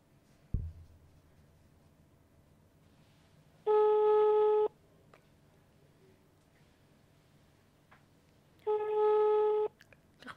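Busy signal on a telephone call that fails to connect: two steady, loud tone bursts about five seconds apart over a quiet background.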